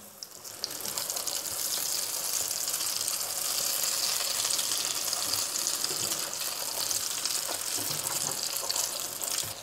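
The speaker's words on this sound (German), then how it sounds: "Und jetzt lasse ich von der anderen Seite auch noch ein bisschen anbraten." Sesame-coated potato patties sizzle in a frying pan, a steady, dense hiss of hot fat that holds at an even level for the whole stretch with no voices.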